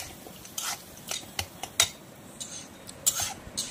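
Taro greens with chickpeas stirred in a pan, a spoon scraping and clinking against the metal in irregular close taps and brief scrapes, with no voices.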